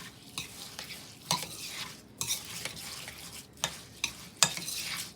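Thick, wet bird feeder seed mixture stirred by hand in a bowl, a steady scraping churn broken by a few sharper knocks of the spoon against the sides, close and alone with no talk.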